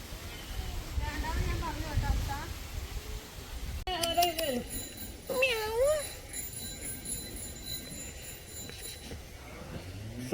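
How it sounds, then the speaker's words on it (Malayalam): A cat meows a few times, clear and fairly close, over outdoor background noise, with people talking earlier in the scene. "നിന്റെ പുറകില് പൂച്ച."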